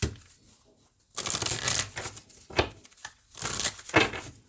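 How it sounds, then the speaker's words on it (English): Tarot cards shuffle in quick, papery riffles and flutters, with soft slaps as cards are pulled, close and fairly loud without any talk. "I'm going to pull a few cards, and then we'll see."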